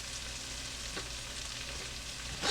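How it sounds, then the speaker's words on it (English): Chicken pieces sizzling in a pot of sautéing vegetables for chicken noodle soup, a continuous close frying hiss with faint stirring, swelling louder right at the end, no voices. "put it into our vegetables that's been sauteing"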